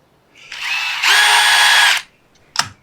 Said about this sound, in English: got my little countersink bit here